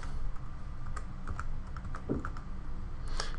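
Patient details being entered on a computer keyboard, with quick, quiet key clicks in an uneven rhythm against a soft room hum, and no one speaking.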